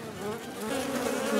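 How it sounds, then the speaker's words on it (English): Honey bees swarm a rejected queen bee in a cage, a close, dense, continuous buzz that holds steady and grows slightly louder. "This is what bees will do to the queen bee, rejected queen bee."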